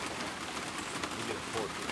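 Steady rain patters on the ground and leaves in the Tennessee woods during deer season, a soft, even hiss with scattered drops, faint and continuous throughout.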